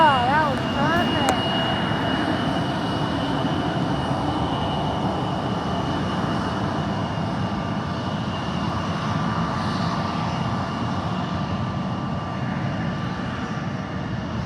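An Alaska Airlines passenger jet, Flight 2001, lands at Yakima (YKM) airport, a loud continuous engine roar and rushing wash that holds steady throughout, heard from outdoors nearby with no voices.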